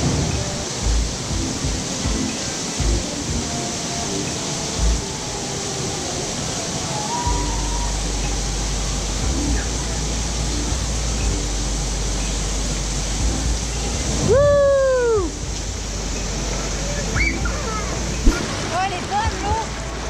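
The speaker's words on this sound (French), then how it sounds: "Elles sont jolies les vagues." Water sloshing in a wave pool at a water park, a steady wash of splashing and surf-like noise under a continuous hum, with people talking and a voice rising near the end.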